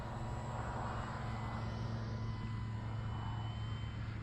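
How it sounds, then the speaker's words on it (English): A full-size fixed-wing airplane drones steadily overhead, a continuous engine hum with no break throughout, heard alone at an RC flying field. "I heard an airplane, so not my airplane."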